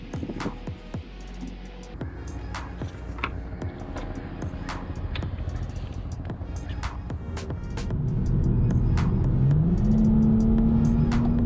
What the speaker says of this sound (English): now I'm going to take the car on a drive